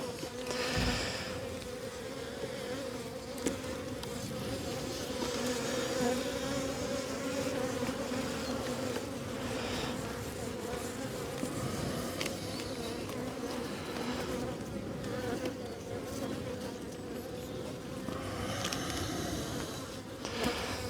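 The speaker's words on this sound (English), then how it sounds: "Beautiful bees, lots of food." Honeybees around an open beehive during a beekeeping inspection, a dense, continuous close buzzing swarm that swells and dips slightly, with a few brief knocks, heard without talk.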